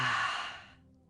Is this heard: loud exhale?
yes